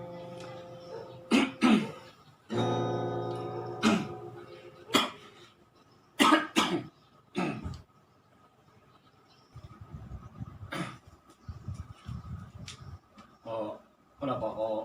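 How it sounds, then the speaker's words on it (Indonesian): Someone among a group of friends coughs repeatedly in sharp, uneven bursts with some throat clearing, close by, while people talk in the background. "kenapa kok batuk-batuk tuh"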